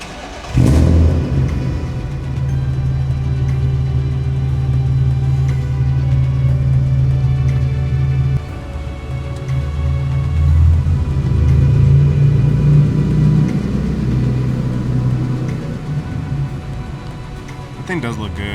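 A BMW E36 M3 engine revs loudly close by, with a steady rough drone that drops briefly and then swells again as the revs climb and hold.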